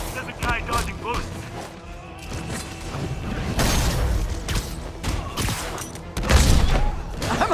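Gunfire in Marvel's Spider-Man on PS5, with repeated shots and bursts mixed with thuds and clanks through a busy fight, while voices shout over the action.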